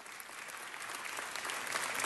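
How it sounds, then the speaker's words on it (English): An audience claps in a sustained round of applause at a celebration event, a dense even patter that swells slightly toward the end, heard at a moderate distance. "let's please give them the round of applause that they deserve"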